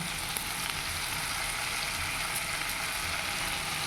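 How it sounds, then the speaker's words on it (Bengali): Chicken kebab pieces of solid boneless meat fry on a low gas flame, giving a steady, faint, even sizzle and crackle with no talk. "লো ফ্লেমে এগুলো আমি ফ্রাই করে নেব"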